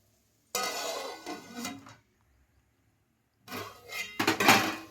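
A metal lid clatters onto a pot of goat head curry, two bursts of clanking and rattling separated by a short silence, close and fairly loud.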